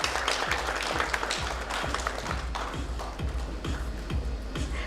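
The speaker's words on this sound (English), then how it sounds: "Let's have a round of applause for both of them." A steady round of applause from an audience at a hospital launch event, dense overlapping claps holding at an even level for the whole stretch.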